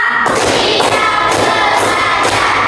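A group in a classroom claps out a counted rhythm pattern, several sharp, evenly spaced bursts of hands striking together, loud and close over a steady room hum.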